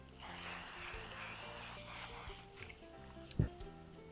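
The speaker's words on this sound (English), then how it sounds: "we're going to spray our potatoes with cooking spray" A steady aerosol hiss of cooking spray onto potato wedges lasting about two seconds, close by, followed by a light clatter and faint handling sounds.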